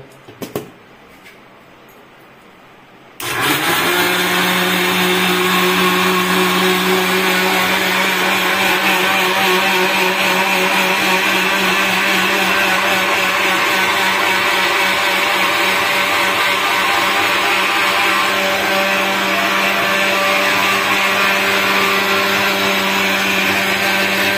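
A mixer grinder blends rava dosa batter, starting abruptly after a few quiet seconds with a faint clink, then running as a loud, continuous high-pitched whir to the end.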